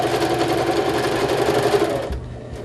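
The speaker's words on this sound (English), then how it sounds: "So I'm going to sew those together" Sewing machine stitching quilt block pieces together, running steadily and loudly for about two seconds with a fast even hum, then stopping abruptly.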